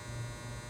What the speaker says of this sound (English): timer's so annoying. I can't shut it off. It's my dryer.